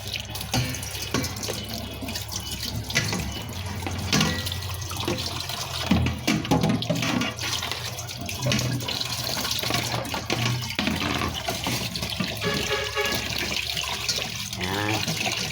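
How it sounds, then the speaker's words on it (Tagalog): Fish being washed by hand under a running kitchen tap, water splashing steadily into a sink throughout, with small drips and handling noises, close and fairly loud, no talking. "Dalawang hugas para malinis talaga."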